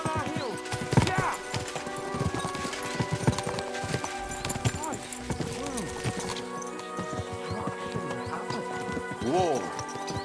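Horses' hooves galloping in the medieval video game Kingdom Come: Deliverance II, a dense clip-clop rhythm with whinnies and clattering, heard under occasional voices.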